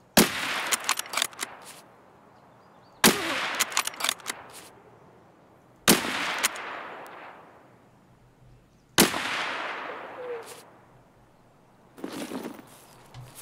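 Mosin rifle shots in Escape from Tarkov: four loud, sharp cracks about three seconds apart, each followed by a bolt-action rattle and fading echo, then a fifth quieter burst at the end, with no voices.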